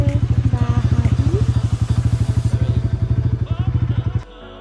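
Motorcycle engine running with a steady, rapid pulsing throb, close and loud, as a child and his father ride together; a brief voice is heard near the start before the engine cuts off abruptly at the end.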